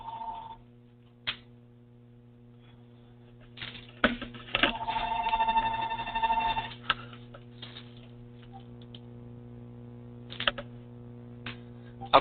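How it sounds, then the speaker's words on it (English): A telephone rings in the background of a quiet room over a constant mains hum. A few faint ticks and bumps come first, then a bright ringing burst lasts about two seconds before things settle again. "And you're going to hear my phone in the background."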